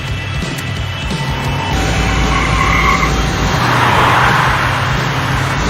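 Car driving and skidding in the video game Max Payne 3, a loud continuous engine rush with tire noise swelling toward the end, close and steady with no speech over it.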